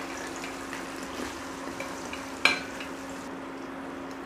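Soft, continuous sizzle and scraping stir in a pan as fried dry fruits and curry leaves are mixed into roasting poha chivda, with one brief sharp clink of a spoon against the pan partway through.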